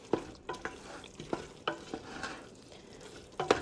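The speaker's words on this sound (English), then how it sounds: "It's a little hard to stir with one hand." Thickening apple pie filling being stirred in a pot near a boil, a series of soft scraping, gloopy stir strokes at an uneven rhythm over a low simmer, close and fairly quiet, with no talk.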